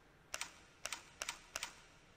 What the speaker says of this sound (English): I can hear a bunch of clicking.